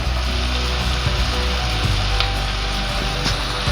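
Carrots tipped into onions already frying in a pan give a steady, loud, close sizzle with faint clicks and scrapes throughout.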